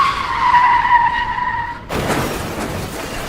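A car speeds along a road, its tires squealing in a sustained high screech, then slams head-on into a concrete road barrier in a sudden loud crunch that crumples the front end, followed by rattling debris. No one speaks.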